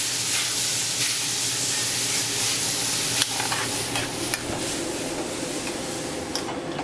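Brandy and red wine boiling off in a beef stroganoff pan, a loud continuous sizzle and bubbling hiss with a few sharp spatters and occasional scrapes.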